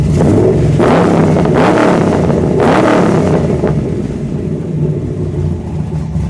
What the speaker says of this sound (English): Give me one good rev